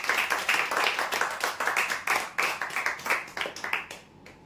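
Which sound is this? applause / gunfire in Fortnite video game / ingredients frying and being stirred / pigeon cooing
applause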